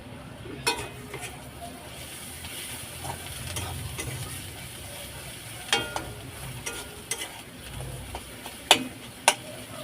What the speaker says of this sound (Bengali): ভালো করে নাড়াচাড়া করে ভেজে নিয়েছি